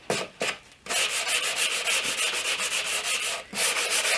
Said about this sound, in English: I'll take my sanding sponge and I'll sand the edge at a 5-degree